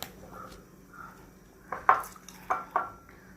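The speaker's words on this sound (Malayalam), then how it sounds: "കലുവക്കോര നമുക്കിതിലേക്ക് ഇട്ട് കൊടുക്കാം." Small whole kaluva kora fish are dropped into a pot of curry, giving a few soft clattering knocks and splashes against the pot near the end, with faint kitchen clinks earlier and no talking.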